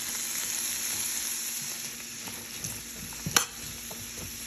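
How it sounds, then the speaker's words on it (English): Celery and onions sizzle steadily in melted butter in a pan, a constant bright frying hiss with a brief sharper crackle of stirring near the end. "Continue to saute the celery and onions until they start to turn a little bit brown."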